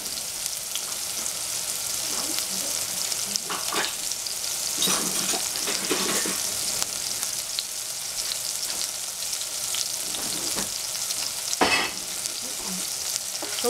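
Cooking oil sizzles steadily in a pan for shiitake mushrooms, cauliflower and broccoli, a dense even hiss with occasional sharper crackles and pops, close and continuous throughout.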